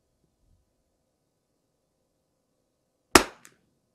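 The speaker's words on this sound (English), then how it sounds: "I'm going to shoot this thing." A single sharp .22LR rifle shot fired with Lapua Long Range ammunition cracks out once, loud and close, after several seconds of near silence, followed by a quick faint echo.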